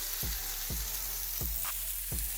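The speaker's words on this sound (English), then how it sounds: "So I'm just dipping it in here and putting it on the griddle." French toast slices dipped in egg mixture sizzle steadily on a hot griddle, with a constant frying hiss broken by four evenly spaced low thumps, close and fairly quiet, with no talk.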